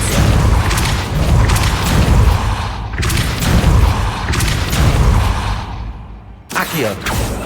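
Repeated Depulso force spells cast in Hogwarts Legacy gameplay at max difficulty, heard as loud booming blasts and whooshing bursts in quick succession, with a brief drop to near silence before another burst.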